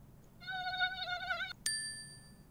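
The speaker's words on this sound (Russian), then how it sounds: "Покажи комарика. У него есть два крылышка." A mosquito gives a thin, steady, high-pitched whine for about a second against quiet background hiss, followed by a short bright ding that rings on.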